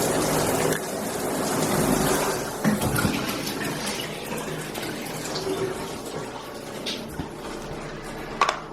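Water sprays steadily from a wide-angle Showerblaster shower head rated at 10.5 gpm, a continuous broadband hiss that holds for the whole stretch with a few small splashes and knocks on top.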